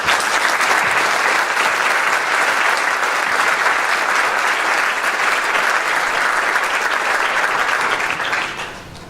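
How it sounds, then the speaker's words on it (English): Conference audience applauding panelists, a loud, dense, sustained wash of clapping that fades out only in the final moment. "let me ask all of you to a round of applause for our panelists"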